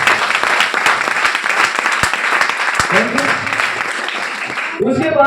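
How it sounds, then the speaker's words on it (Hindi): Audience applause for a person being honoured at an event, loud, dense and sustained for about five seconds, then tapering off as a voice comes in near the end. "तो एक बार जोरदार तालियां संजीव कुमार सर के लिए।"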